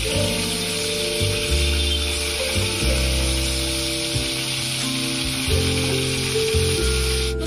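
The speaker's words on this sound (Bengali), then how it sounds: "দুটো পাশই সুন্দরভাবে ভাজা হয়ে যাচ্ছে।" Fish frying in a pan over a medium-low gas flame, a steady close sizzle that runs the whole time with a low background hum and no talking.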